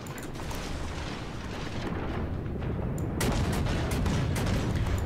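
Rapid salvos from the St. Louis cruiser's guns in World of Warships, a dense rumbling stream of booming shots and bursts at steady loudness, with sharper cracks in the latter half.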